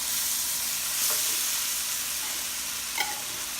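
Fresh tomatoes sauté in a pan with goat meat and fish sauce for kalderetang kambing, giving a steady close sizzle with a couple of faint stirring clicks and no talking.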